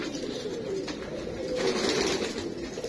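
Teddy pigeons cooing at a breeder's loft, low soft throaty coos repeating steadily, close by, over constant background noise.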